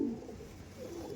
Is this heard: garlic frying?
no